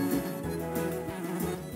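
Cartoon bee buzzing steadily as it flies from flower to flower in the Nature Cat pollinator video game, a continuous close insect drone with game music underneath.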